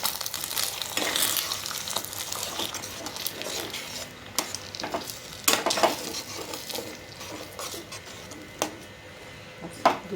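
Egg with a pinch of salt is scrambled in a pan, giving a soft continuous sizzle broken by scraping stirs and occasional sharp clinks of a spatula against the pan.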